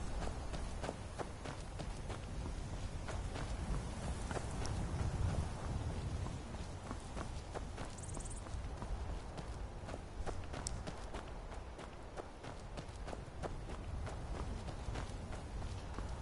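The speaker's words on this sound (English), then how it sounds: "just listening to the sound effects now, the footsteps, watching the snowfall in the water, it's just amazing" Footsteps in the video game Skyrim at Bleakfalls Barrow, a run of soft, fairly faint crunching steps at an even pace over a low ambient backdrop, with no voices.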